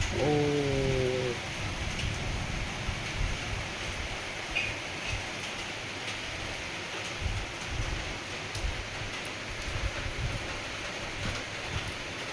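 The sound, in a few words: morning rain falling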